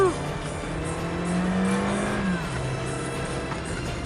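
A 2010 Toyota Corolla with a four-cylinder engine of about 140 horsepower accelerates hard, its engine note rising under a brief tire squeal, close and steady for a few seconds.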